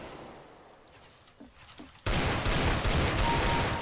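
Desert Eagle fire in Counter-Strike: Global Offensive starts with faint thuds and then turns into a sudden, loud, sustained burst of gunfire and noise that fills the rest of the clip.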